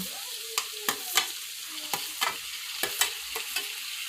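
Cabbage, tomato and capsicum are stir-fried in oil for schezwan fried rice: a soft, steady sizzle broken by about a dozen sharp scrapes and clicks of a spatula against the pan, with no talk.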